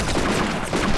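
Heavy small arms fire in the World War II strategy game Combat Mission: Afrika Korps, a loud, dense, continuous crackle of overlapping shots lasting about a second, with no talking.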